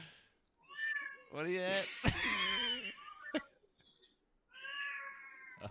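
A cat, a big 40-pound tomcat, yowls loudly and repeatedly in drawn-out, wavering meows and caterwauls, with someone talking and chuckling between the cries.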